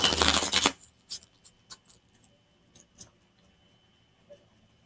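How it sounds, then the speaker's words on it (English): A quick burst of tarot cards riffled together, followed by a handful of soft, scattered taps and clicks in an otherwise quiet room. "Okay, one more shuffle."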